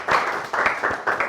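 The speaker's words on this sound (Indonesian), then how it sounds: "Tepuk tangan dulu deh." A small group of people claps briefly in a classroom-style session, a few short bursts of applause with brief gaps between them, close and fairly loud.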